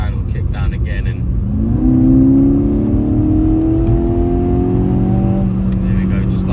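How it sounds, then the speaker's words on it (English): A 2015 SEAT Ibiza Cupra with a 1.4 TSI engine and DSG gearbox kicks down and accelerates, its engine note rising steadily and loudly from inside the cabin, with someone talking over it. "if I put my foot down, it'll kick down again"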